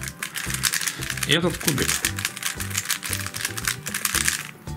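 Plastic clicks from turning a YJ YuLong v2 M 3x3 speed cube, a 56 mm puzzle, in quick uneven bursts close up, with someone talking over the turning throughout.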